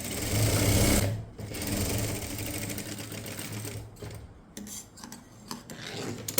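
A sewing machine stitches a fabric neck piece for a handmade neckline design. Its motor whirs in steady fast bursts with brief stops and rustling handling sounds between runs, close and fairly loud.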